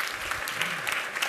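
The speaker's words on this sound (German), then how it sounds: "Ein Applaus für Jürgen Popp." Audience applause at a German science show about photonics, a short, even burst of many hands clapping with faint voices underneath.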